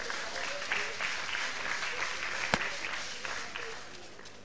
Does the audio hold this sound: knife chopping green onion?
no